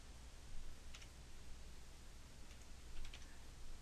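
Quick, faint keystrokes typing a web address on a computer keyboard, a couple of short bursts of clicks over a steady background hiss.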